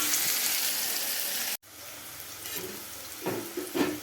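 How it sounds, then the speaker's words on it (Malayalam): Bitter gourd sautéing in oil with a little salt gives a steady, loud sizzle that cuts off abruptly, then softer frying continues with scraping stir strokes near the end. "പാവയ്ക്കയ്ക്ക് കയ്പുള്ളത് കൊണ്ട് ലേശം ഉപ്പ് ചേർത്ത് വഴറ്റിയെടുക്കാം കേട്ടോ."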